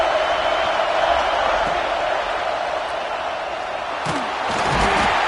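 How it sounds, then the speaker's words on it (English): A football stadium crowd roars steadily through a red zone defensive stand, a dense sustained wall of noise that never lets up. "here comes the noise. This crowd just trying to inspire this defense to make a big red zone stop"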